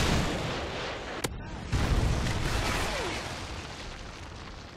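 Predator missile strike in Modern Warfare 3 gameplay: a sharp crack followed by a deep rumbling blast that swells and slowly fades under a continuous roar of battlefield noise.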